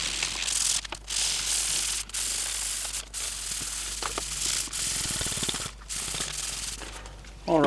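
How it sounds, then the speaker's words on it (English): Hand sanding a Toyota Land Cruiser 80 Series sun visor panel with 240 grit sandpaper: steady, close scratchy rubbing strokes running almost continuously with brief pauses between passes. "I've got that all sanded down with the 240 grit"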